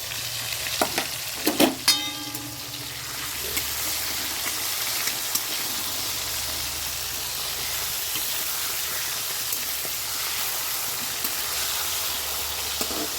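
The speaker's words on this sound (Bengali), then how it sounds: "এদিকে ভাজা করতে দিয়ে দিচ্ছি এটা দেখো নুন মাখিয়ে নিয়েছি" Salted fish frying in hot oil in a home kitchen, a soft continuous sizzle after a few sharp clattering knocks at the start, steady and moderately quiet.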